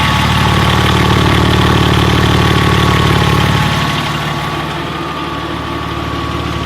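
A 2001 Porsche 996 911 Turbo idles loudly through a high-flow exhaust with a deep, rumbling note that drops slightly in level partway through, steady and close.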